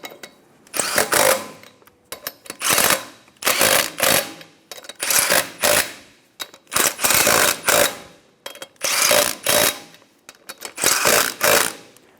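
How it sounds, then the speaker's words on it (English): A 21mm socket on a ratchet snugs down the six lug nuts on a 2000-2006 Toyota Tundra wheel, making about eight loud, rapid clicking bursts separated by short pauses. "Using a 21mm socket, snug down your 6 lug nuts."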